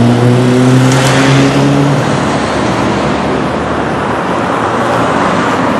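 Car driving along a street past a pothole on Avenida Guabinal in Ibagué, Tolima, heard as steady, fairly loud roadway noise with an engine hum that fades slightly after the first two seconds.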